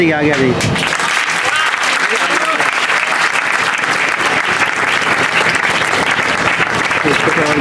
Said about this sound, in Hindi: तालियों से मुझे पता चलेगा कि आप इसको कितना प्रोत्साहित कर रहे हैं